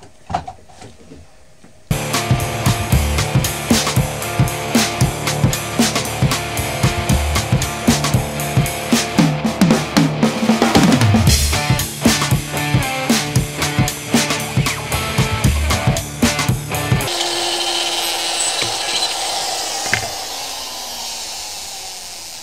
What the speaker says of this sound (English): I want to take this bit right here on my Dremel, and I want to try to get that out without screwing it up